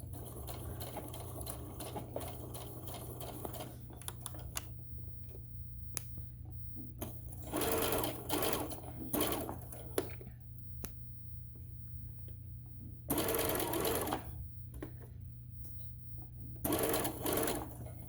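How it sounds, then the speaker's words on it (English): A sewing machine back stitching a 5/8 inch seam on a tote bag, several bursts of rapid mechanical stitching separated by pauses, close and clear, with a constant low hum underneath and someone speaking in between. "I'm going to go back over to my machine. And I'm going to back stitch, so a 5/8 inch seam."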